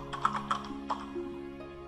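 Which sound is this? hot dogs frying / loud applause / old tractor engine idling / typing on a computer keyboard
typing on a computer keyboard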